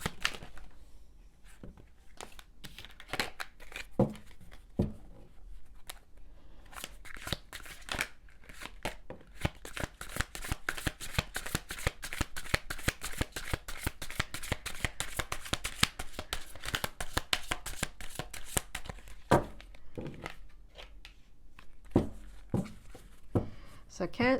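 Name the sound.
tarot cards being shuffled and flipped out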